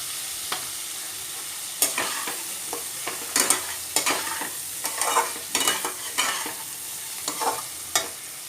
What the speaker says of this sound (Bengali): এবার আমি এই ভাজা আলুগুলো দিয়ে দেবো।